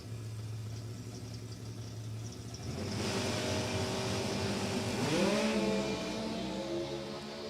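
NHRA drag racing cars at New England Dragway idle and then launch off the starting line, the engine roar swelling loudly with a sweeping rev that dips and climbs as one car struggles to find a gear.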